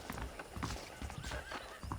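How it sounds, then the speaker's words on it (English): Horse hooves clip-clopping in the video game Red Dead Redemption, a quick, even rhythm of close, fairly quiet hoof strikes alone without talk. "The horses are saddled up over here."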